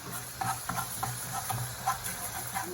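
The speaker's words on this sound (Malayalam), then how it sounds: "ഉലുവ ഇടാം, എന്നിട്ട് ഇതൊന്ന് വറുക്കാം." Fenugreek seeds dry-roasting in a pan for Kerala-style fish pickle give a soft, steady sizzle and light crackle with occasional scrapes of stirring, close and fairly quiet.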